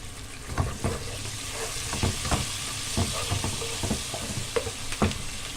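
Peppers sizzle in hot oil in a pan, a steady close frying hiss broken by irregular scrapes and taps of stirring, no voices.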